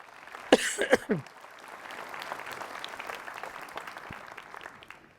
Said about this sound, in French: je vous demande, s'il vous plaît, d'applaudir Michel Fricou